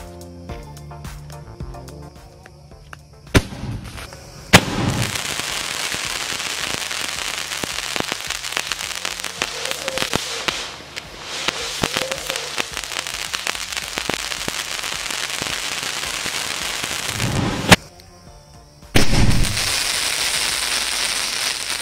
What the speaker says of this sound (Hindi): सो हमारा स्काई शॉट रेडी है एक्सपेरिमेंट के लिए, तो चलिए इसे टेस्ट करके देखते हैं कैसा चलता है ये